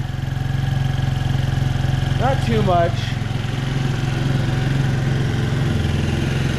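A carbureted Kymco Super 8 scooter engine idles steadily at close range, a low even drone that runs under brief talk.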